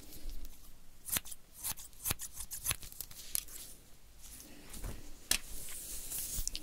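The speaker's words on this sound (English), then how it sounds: "after I cut your hair, I have pretty sharp scissors" Close, crisp snips of scissors cutting hair, irregular clusters of quick metallic clicks with soft rustling between.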